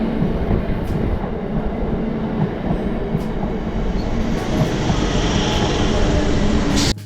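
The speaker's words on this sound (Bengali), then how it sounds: "সেই জন্যই আমি আজকে ভাবলাম ট্রেনে করে একটু যাই।" A Bangalore local train runs steadily with a continuous loud rumble and rattle of carriages, heard from inside, cutting off abruptly at the end.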